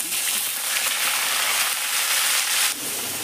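Chicken frying in hot oil in a wok, a steady bright sizzle that holds evenly throughout, close and fairly loud, briefly dropping near the end.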